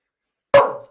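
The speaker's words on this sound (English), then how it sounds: "I think it's got a dog who's just gone a bit berserk in the background here." A single dog bark, sharp and fairly loud, erupting alone after silence and trailing off briefly in the background of an indoor recording.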